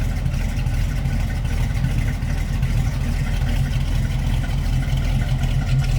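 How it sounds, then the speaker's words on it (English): A 1968 Chevrolet Camaro Z28 tribute idles with a steady, throaty low rumble, close and loud, the engine note holding even and unbroken throughout. "Nice little throaty idle to it."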